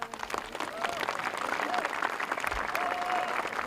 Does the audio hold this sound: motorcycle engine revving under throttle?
no